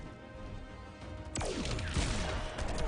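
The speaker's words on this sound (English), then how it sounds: "beautiful gunshot at the last second cancel" A single sharp gunshot in the fighting game Injustice 2 cracks out midway, followed by a falling whoosh and crashing impacts over a quiet game backdrop.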